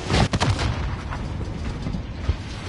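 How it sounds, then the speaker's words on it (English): Heavy booming explosions from the video game Warzone, a couple of sharp blasts early and then a dense, continuous rumble of battle noise. "I didn't hear it because there's too many explosions around me"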